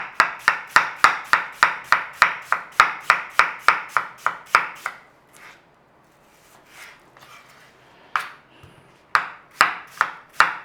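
A knife chops through onion on a cutting board in quick, even, close strokes, a steady run of sharp thuds that pauses and then resumes with a few more cuts.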